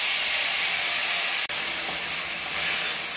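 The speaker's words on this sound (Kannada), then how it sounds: "ಇವಾಗ ನಾನು ಈ ಕಟ್ ಮಾಡ್ಕೊಂಡಿರುವಂಥ 5 ಟೊಮೆಟೊನ ಹಾಕೊತಾ ಇದ್ದೀನಿ." Five chopped tomatoes added to a hot pan fill the air with a loud, continuous bright sizzle and hiss that holds steady throughout, broken only by a momentary dip.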